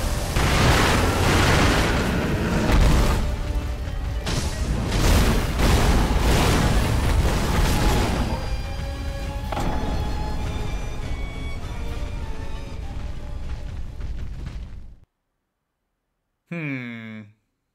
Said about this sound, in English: Holy shit, man. Firecrackers.